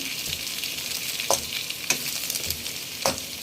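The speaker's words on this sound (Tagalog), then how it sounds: "Dito ko na rin sinasangkot siya yung ating carrot at potato." Carrot and potato sautéing in a pan for pork igado, a steady close sizzle broken by a few sharp scrapes and clacks of stirring.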